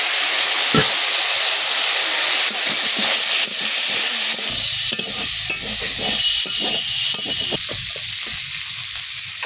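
Pomfret fish curry with potato and tomato stirred and sizzling in a hot pan, a steady frying hiss with soft scraping stirs throughout.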